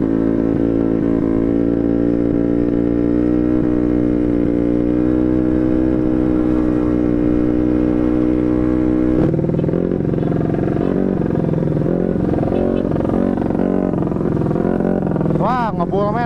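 Racing motorcycles, a carbureted 142cc Honda Beat against a 150cc Kawasaki Ninja RR, drone at a steady high rev before the pitch drops abruptly into rougher idling, with a sharp rising rev burst near the end and people talking at times.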